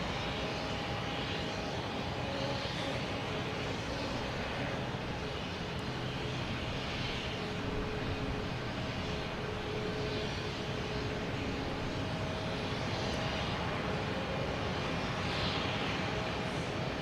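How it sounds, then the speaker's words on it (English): Delta Boeing 737-800 jet taking off from Boston Logan Airport, heard as a steady, broad engine roar that holds evenly through the whole stretch at moderate distance, with no speech. "We have a Delta taking off to Miami."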